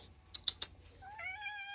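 Pet cat meowing indoors in a room: a few soft clicks come first, then a drawn-out, quiet meow, close by.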